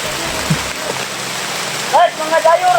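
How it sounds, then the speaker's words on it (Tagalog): Dense, hissing rain pours down steadily, loud and close, while a voice cuts in briefly near the end. "Malakas na yung ulan."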